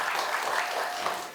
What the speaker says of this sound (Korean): 큰 박수로 축복 올립니다